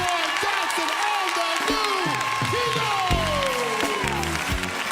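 Audience applause and cheering welcoming a gospel singer at an East Texas show: steady dense clapping with whoops rising over it while a keyboard chord rings underneath.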